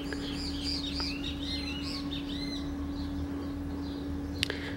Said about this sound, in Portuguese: Pessoal, eu nunca tinha notado como tem pássaros aqui em casa.